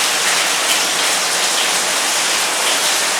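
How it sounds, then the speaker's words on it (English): Steady rain falls outside, a dense, even hiss of drops on surfaces that stays constant and fairly loud throughout, with no talking. "Yes, it's raining, so I'm sorry about the background noise."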